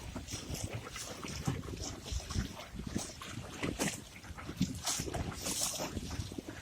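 Wind buffets the microphone steadily while a Sunfish sailboat glides across North Long Lake, a broad rushing roar with gusty swells and some water slapping, continuous throughout with no talking.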